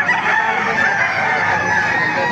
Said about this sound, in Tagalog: papakita ko sa inyo mga manok dito sa Baliwag